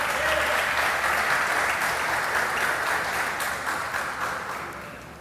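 A church congregation applauds at an evening service, a dense, steady wash of clapping from a large crowd that fades slowly toward the end.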